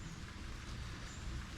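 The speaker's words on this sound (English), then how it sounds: "it's pouring down the rain again" Heavy rain pours down steadily outdoors as a dense, continuous hiss and patter that stays even and fills the whole moment, with no voices.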